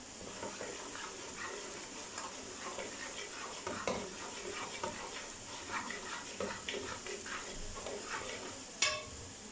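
Onions and garlic browning in oil in a pot for beef palak gosht, a soft continuous sizzle with scattered light clicks and stirring scrapes, moderately quiet and close, with a sharper clink near the end.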